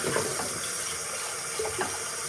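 Hot water runs steadily from a kitchen tap into a sink or pot, a continuous close hiss and splash with small gurgling bursts, no voices over it.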